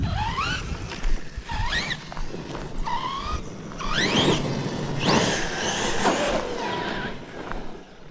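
A Traxxas Sledge RC truck whines and screams as its electric motor revs up and down in rising and falling bursts, with gravel crunching under the tyres, fairly close and loud over a steady outdoor background.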